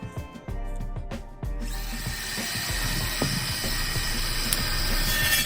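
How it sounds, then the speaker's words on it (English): A power tool cutting a ceiling plank, starting after a few clicks and handling sounds, then whining steadily and fairly quietly for several seconds. "So you can see I'm cutting this piece down."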